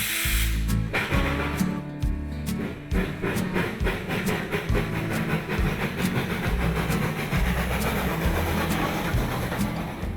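The Flag Coal Company No. 75, a 0-4-0 tank steam engine, runs close by with a loud hiss of venting steam over low rhythmic chuffing and rail clatter, steady throughout.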